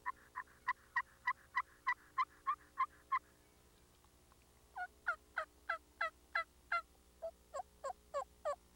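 A hunter's turkey call imitating a hen: two runs of sharp, evenly spaced yelps, about a dozen then another dozen after a short pause, loud and close.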